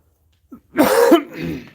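A faint catch of breath, then one harsh cough followed by a rough clearing of the throat, close and loud.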